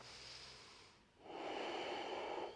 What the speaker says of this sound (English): 1 more full deep breath with your chin lifted, with your heart lifted.